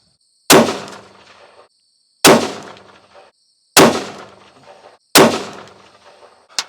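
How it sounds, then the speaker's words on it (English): Four loud, sharp gunshots from a Ruger American Gen 2 Ranch rifle chambered in 22 ARC, fired at a 100-yard range, evenly spaced about one and a half seconds apart, each followed by a short ringing decay. "shoot up the rest of this ammo, which is 4 rounds"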